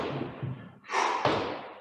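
Bodies land jump after jump during a home workout, a soft thud followed by a brighter, louder impact with a sharp slap, with no one speaking.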